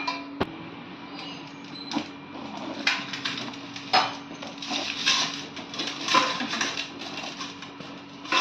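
A knife chops and saws into a large jackfruit, giving irregular dull knocks and scraping thuds, some sharper impacts, spread across the clip at close range against a faint steady hum.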